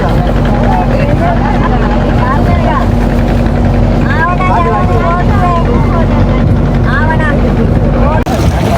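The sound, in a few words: passenger boat engine on the water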